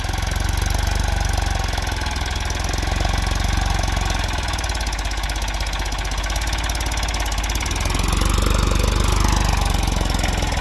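A farm tractor engine working a field with a plough drones steadily and loudly throughout, with a knocking, rattling mechanical texture that swells slightly near the end.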